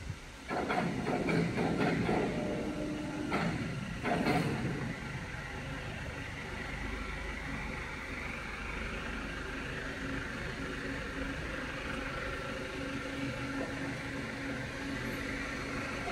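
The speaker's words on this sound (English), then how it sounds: "the oil press machine for food oil production" Edible oil press machine for food oil production running steadily, a continuous mechanical hum and hiss with a few louder clunks and rattles in the first few seconds before settling into an even drone.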